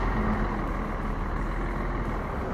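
A bus in road traffic, heard as a steady, loud low engine rumble with broadband road noise throughout, consistent with a heavy vehicle idling or moving nearby; no talking.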